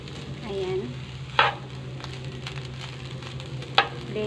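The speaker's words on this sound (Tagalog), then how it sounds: "ito yung ating sinangag na may ginadgad na carrots" Fried rice with grated carrots stir-fried in a pan, a steady close sizzle with a few sharp scrapes and clacks of the spatula against the pan.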